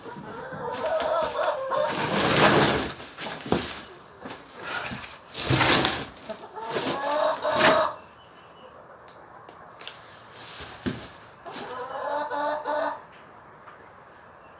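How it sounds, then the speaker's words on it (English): Backyard chickens clucking and squawking in bursts, some loud and near, with quieter gaps between calls; no one speaks. "What y'all doing here, chickens?"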